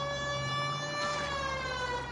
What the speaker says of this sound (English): we might get there quicker if you use the siren